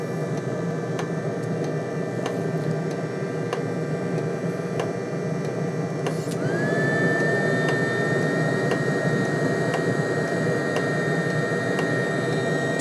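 A Webasto diesel heater running on low gives a steady droning roar with a faint regular ticking from its fuel pump, then a thin rising whine joins partway through and holds.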